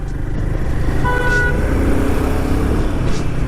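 A Royal Enfield 450 motorcycle cruises along with a steady engine drone and wind roar, heard from the rider's position, and a brief horn-like tone sounds near the middle.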